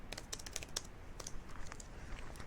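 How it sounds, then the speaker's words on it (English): Rapid keystrokes on a computer keyboard, clattering in quick irregular bursts close to the mic, with no voices over them. "I'm just typing the same line over and over again"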